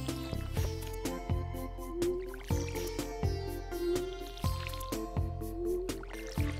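Watering can splashing water in Stardew Valley: a regular series of quick wet splashes and drips, roughly one every half second, set over light plucked background music, no voices.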